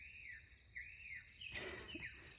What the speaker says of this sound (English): the birds were chirping